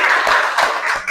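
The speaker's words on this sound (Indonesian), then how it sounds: "Tepuk tangan untuk kita semua." A brief burst of applause from a classroom audience after student presentations: dense, loud clapping lasting about a second.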